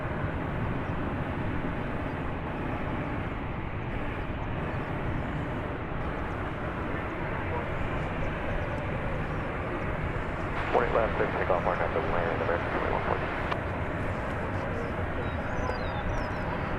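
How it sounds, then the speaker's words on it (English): A Boeing 737-800 airliner at DFW Airport, departing on a flight to Santa Ana, California: a steady, heavy engine roar fills the whole stretch, swelling slightly near the end, with voices faintly underneath. "So this ought to be flight 2114 off to Santa Ana, California, 737-800."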